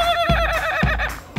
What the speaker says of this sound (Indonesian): Gretek adalah jenis suara kokok dengan interval cepat.